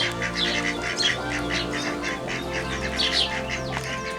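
Chickens and young chicks in a backyard flock, among them a Silkie rooster, make faint, busy chirps and peeps. Steady low background noise runs beneath the calls.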